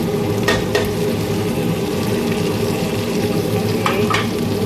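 Garlic and tomato frying in a pan for chicken biryani, a steady close sizzle with a few sharp stirring scrapes, no voices.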